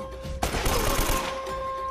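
Burst of gunfire in Uncharted: Drake's Fortune, a sharp onset followed by sustained rapid shots and rumbling reverberation against a steady tonal game background hum.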